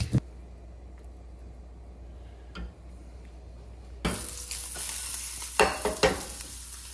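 A small piece of seasoned meatloaf mixture frying in a pan, starting with a low quiet background before a bright, loud sizzle erupts and continues with a few sharper pops, close.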